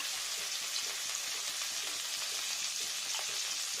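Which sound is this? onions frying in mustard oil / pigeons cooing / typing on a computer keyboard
onions frying in mustard oil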